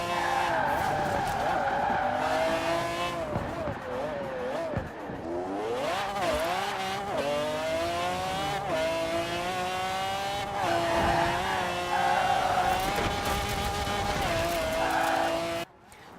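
Very fast car in the Forza Horizon 4 racing game accelerating hard, its engine note climbing in repeated rising sweeps through the gears, loud and continuous, with tire noise mixed in.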